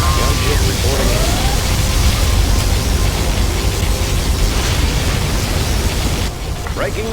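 A huge explosion in C&C Generals Zero Hour, likely a nuclear blast: a loud, sustained roaring rumble fills the whole clip, then drops off sharply near the end.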